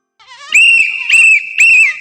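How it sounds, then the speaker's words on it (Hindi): A woman blows a whistle loudly in three sharp, shrill blasts, each held briefly, with a short rising warble before the first and no talking. "मेम साहब कितनी जोर से सीटी बजा रही है।"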